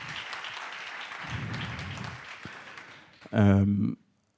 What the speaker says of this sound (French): je vais déjà commencer par vous demander de les applaudir